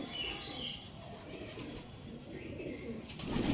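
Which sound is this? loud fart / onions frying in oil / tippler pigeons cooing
tippler pigeons cooing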